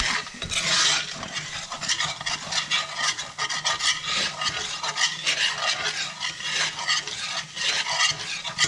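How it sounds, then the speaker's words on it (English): Spoon stirring roasted almonds into a sticky mixture, a continuous close scraping and rasping with irregular gritty rubbing strokes. "We're gonna take our spoon, just gonna mix it around, get everything mixed up really good."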